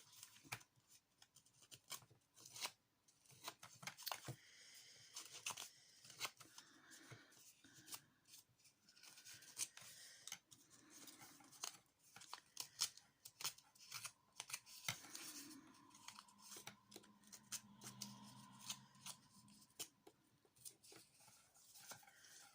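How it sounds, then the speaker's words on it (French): Scissors snipping and handling paper for a Halloween craft, quiet close-up cuts and rustles scattered irregularly over a long stretch with no talk. "je vais continuer à abîmer mon papier que je viens de couper avec vous"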